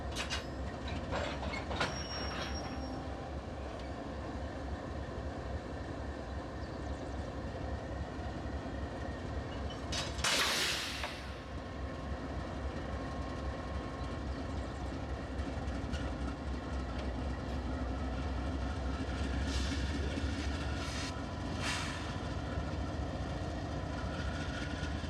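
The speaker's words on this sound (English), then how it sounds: "Watch and listen as the air hose breaks free as they uncouple and pull away." Union Pacific lead locomotives uncoupling from a grain train consist, an air hose bursting free with a brief loud hiss amid steady rumbling rail and engine noise, followed by continued low locomotive drone as they pull away.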